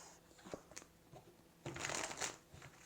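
Soft riffling and shuffling of tarot cards, quiet and close, with a few light taps and then a denser flurry of papery flicks.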